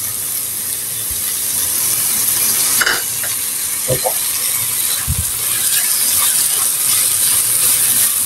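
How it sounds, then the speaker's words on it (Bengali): Cabbage and tuna fish frying in a pan over low heat: a continuous close sizzle with occasional spatula knocks and scrapes against the pan. "ধীরে জাল দিয়ে পাতাকপিটি সুন্দর করে ভাজিয়ে নিব"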